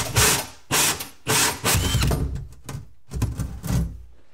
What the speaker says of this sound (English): So now I have where I need to drill my hole. And drill it.